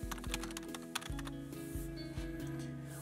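Email address typed on a computer keyboard: a quick, uneven run of light key clicks, close and fairly soft, with no voices.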